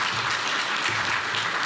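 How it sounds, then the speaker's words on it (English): Brief burst of steady audience applause at a city's State of the City 2020 event in Weslaco, many hands clapping evenly and fairly close with no voices over it. "so we can get a round of applause."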